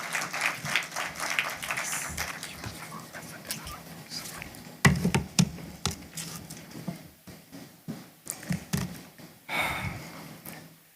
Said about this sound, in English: Let us clap as we...